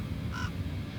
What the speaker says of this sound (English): Crow has something to say about it.